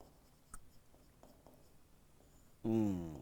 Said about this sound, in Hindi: एक एग्जाम्पल भी हमने देखा, यहाँ एग्जाम्पल लिख लेंगे।